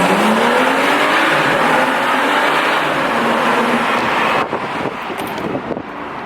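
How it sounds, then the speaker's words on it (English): A BMW 435i with the M Performance exhaust pulls hard from first into second gear in a tunnel, the engine note rising loudly then dropping at the shift, with wind rush toward the end. "I'm gonna try to get a tunnel pull. First gear to second gear."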